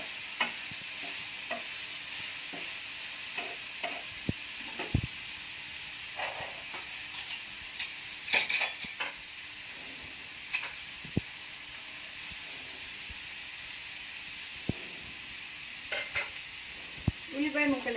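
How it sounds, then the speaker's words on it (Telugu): Onion pieces frying in a pan with carrots and beans, a steady close hiss broken by sharp clinks and scrapes as a spoon stirs them, with no talking. "ఒకసారి తిప్పి ఇంకొంచెం మగ్గాలి. ఇప్పుడు ఉల్లిపాయ ముక్కలు వేసుకుందాము."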